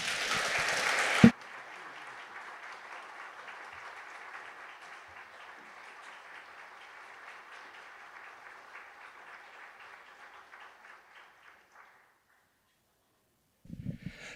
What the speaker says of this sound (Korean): 우리 목사님 나오실 때 한번 힘차게 환영의 박수로 맞이하겠습니다